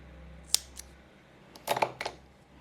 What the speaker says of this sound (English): We're going to just cut our yarn.